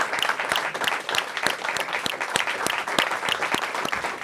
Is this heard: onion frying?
no